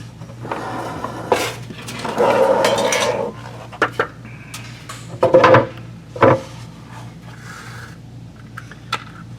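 Bolts securing the transmission pan and gasket on a 2022 Ford F-350 with the 10R140 transmission make close, intermittent metallic clinks, rattles and scrapes separated by quiet gaps.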